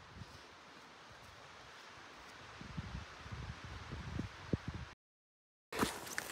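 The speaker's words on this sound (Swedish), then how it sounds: "Innehåller lite svalkande vindar." Wind blows steadily outdoors during a walk, with soft rustling and low gusts, then cuts briefly to silence before a short burst of noise returns.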